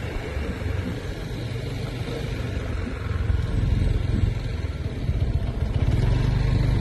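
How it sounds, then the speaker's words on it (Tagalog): Aris's motorcycle runs outdoors as a steady, rough rumble that swells slightly partway through, with nothing else standing out over it. "yung motor ni Aris"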